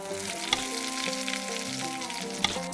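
Pork fat renders in a pot, sizzling and crackling steadily, with occasional sharp pops over a low background hum.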